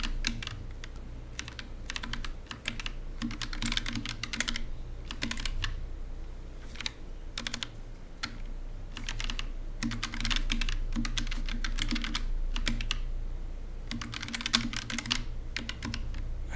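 Rapid clusters of computer keyboard typing with short pauses between bursts, close, clicky keystrokes over a low steady hum.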